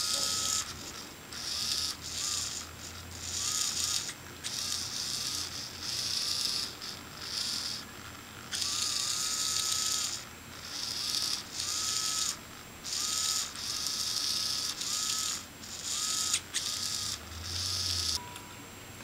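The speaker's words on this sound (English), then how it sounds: "here's an example of the same scene being used to control a servo" A small Arduino-controlled servo motor whirs in repeated short, buzzing strokes, the high-pitched grinding starting and stopping in quick succession and close to the microphone, with no voices.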